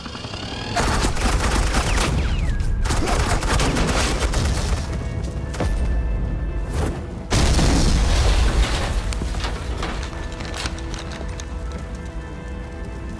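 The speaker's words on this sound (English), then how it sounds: "Suppressing fire." Sustained suppressing gunfire in the Batman: The Enemy Within video game, dense overlapping automatic bursts and booming shots pounding loudly for several seconds, with a brief lull before the barrage resumes.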